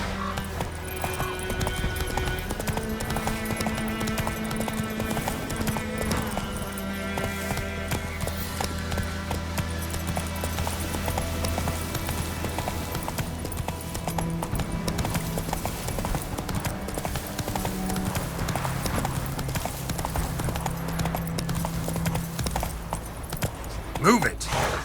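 Rhythmic hoofbeats of a galloping horse in The Witcher 3 video game run steadily under layered game music and ambience, with a voice speaking briefly.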